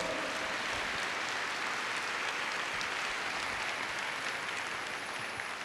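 A church congregation applauds, steady dense clapping at even loudness throughout, filling the room for the full stretch without a break.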